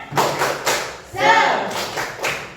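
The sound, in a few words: class doing the tepuk semangat clapping routine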